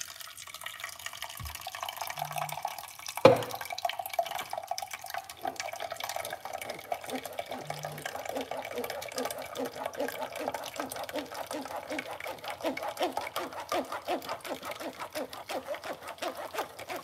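An olive oil and lemon mixture runs through a strainer in a steady liquid trickle with occasional drips and a sharp knock early on, close and moderate in level.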